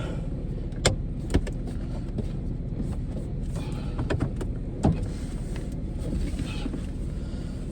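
A 2000 Porsche Boxster S with over 200k miles drives along, its low engine and road rumble steady from inside the cabin, with a few sharp clicks and knocks.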